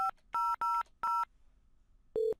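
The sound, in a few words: telephone dialing tones, dialing extension 5000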